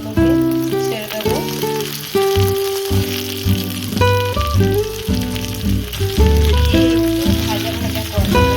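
Pieces of boiled potato fry with onions in hot oil for an egg biryani, sizzling loudly and close throughout, with strong background music playing over the frying.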